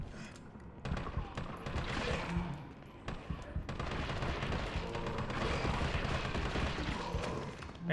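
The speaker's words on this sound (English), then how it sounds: "Man, this gun sucks." Gunfire from a weapon in Resident Evil 3 Remake during a zombie fight: loud, rapid shots crack in a dense, nearly continuous barrage with only brief gaps.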